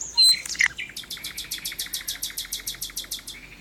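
A nightingale sings close by near its nest in a natural setting, a bright rapid series of repeated whistled notes in a steady pulsing rhythm after a couple of sharp opening calls, clear and alone.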